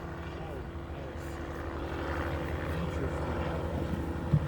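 A Piper Cub light propeller aircraft makes a low, fast landing pass, its steady engine drone rising and holding at moderate distance, with faint crowd noise beneath.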